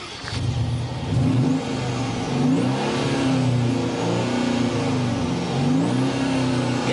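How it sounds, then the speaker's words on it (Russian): A stock Mercedes-Benz CL 500 V8 exhaust revs repeatedly, its engine note rising and falling through several loud, close blips with no talking. "Вы послушайте, как настроен выхлоп у стандартной версии автомобиля."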